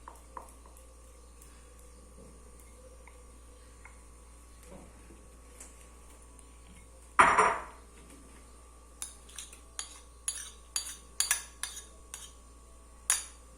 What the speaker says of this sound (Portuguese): Misturar todos esses ingredientes na panela.